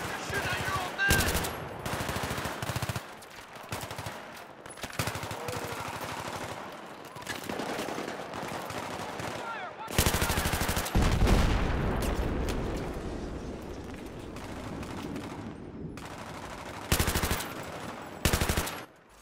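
Bursts of automatic gunfire and single shots in the video game Battlefield 3, loud and close, coming in dense volleys separated by short quieter gaps, with voices talking at points.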